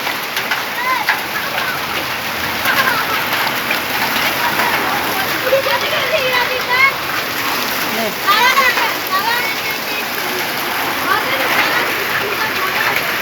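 Heavy hailstorm lashing down in a steady, dense roar of hard impacts and splatter, loud and continuous throughout, with people's voices talking underneath.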